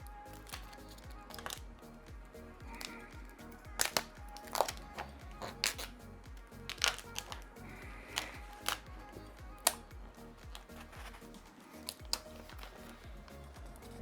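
Protective film is peeled off a Samsung Galaxy Z Fold 3, a long run of faint crackling and ticking with small sharp snaps, close and with no talking.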